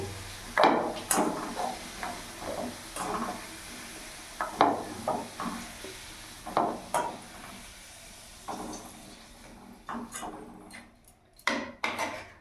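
Fenugreek leaves with potato and lentil bori being stir-fried in a pan, with repeated scraping and stirring strokes of a spatula over a soft sizzle, in irregular bursts with brief pauses.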